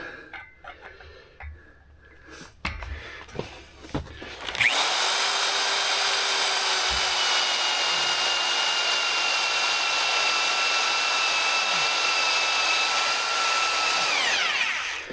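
A few clicks and taps, then a power drill spins up and whines steadily at high pitch, grinding through a steel mailbox frame for about ten seconds before winding down.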